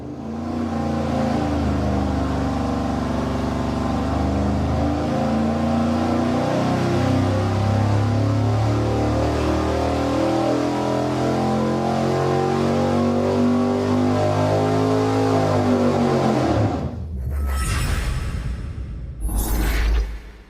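V8 engine fitted with an Edelbrock RPM Air Gap intake manifold on a dyno: a loud, sustained rising roar through a long pull, then a sudden drop off and a couple of short blips at the end.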